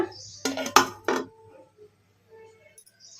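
A metal plate set down as a lid over a bowl of black-eyed pea dal left to soak, giving a few close, sharp clinks and clatters in quick succession, then near silence with faint rustles.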